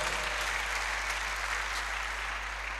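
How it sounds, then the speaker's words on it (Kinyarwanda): A church congregation claps together at a worship service. The applause is a steady, continuous wash of sound, fairly close, with no voices over it. "mwakomera amashyi cyane kabisa"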